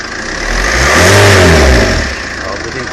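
A 2003 Renault Laguna 1.9 dCi diesel engine with a starting fault revs up once, rising to a loud, fairly slow peak before dropping back to a rough idle, heard close by.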